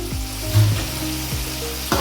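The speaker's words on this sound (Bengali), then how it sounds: "দেখুন আলুটা ভাজা হয়ে গেছে, অলরেডি এরকম লাল লাল করে ভেজে নিয়েছি" Potatoes frying in hot oil in a pan, a steady close sizzle with a few soft stirring knocks throughout, no one talking.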